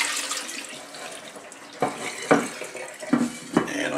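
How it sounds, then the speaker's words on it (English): Water running in a sink while pickled onions are drained, a steady close hiss of flowing water broken by several splashy pours and clatters toward the end. "What I'm going to do now is basically just drain these."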